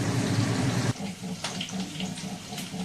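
Raw chicken rinsed under a running kitchen tap, a steady loud gush of water that abruptly drops to a lighter, uneven trickle and splashing against the meat.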